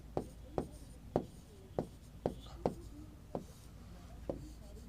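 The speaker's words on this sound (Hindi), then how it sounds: "इधर मैं नाम लिख रहा हूं ग्रेट सैंडी" Chalk tapping and scraping on a classroom board as desert names are written, a run of about eight sharp, evenly spaced strokes close by over a faint room background.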